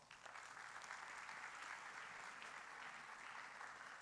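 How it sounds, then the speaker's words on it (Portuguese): An audience at an agricultural conference on planting in sandy soils applauds steadily for a few seconds, a dense wash of clapping heard from a distance. "Uma salva de palmas."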